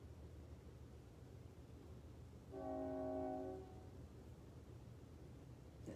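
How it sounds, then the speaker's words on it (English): A distant train passing through town sounds its horn in one sustained, chord-like blast of about a second and a half, heard faintly over a low steady rumble in an otherwise quiet indoor room. "And here comes another train."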